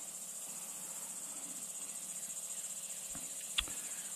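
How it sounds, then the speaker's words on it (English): Crickets chirp at a small bayou fishing spot in a steady, faint, high-pitched trill that runs throughout, broken only by a couple of brief knocks near the end. "Crickets seem to be doing pretty good in this little spot."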